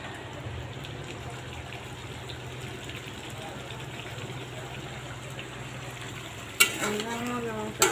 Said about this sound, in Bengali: ভালো করে কষাইতেছি তারপর পানি দিয়ে দিই